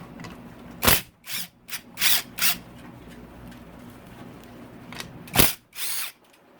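Power drill on a Yamaha YZ250 two-stroke dirt bike removing two 10 mm bolts, several short sharp whirring bursts close up, two early bursts, a cluster in the middle and two more near the end, quiet between.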